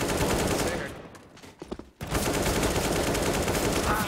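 Rapid automatic gunfire in Counter-Strike on the Mirage map, loud and dense, breaking off for about a second of quieter scattered shots, then resuming in a long continuous burst.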